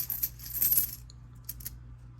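Wheat pennies from a rare coin bag clink and jingle as they drop, a busy cluster of metallic taps early on followed by a few isolated light clinks, close and moderately quiet with a low steady hum beneath.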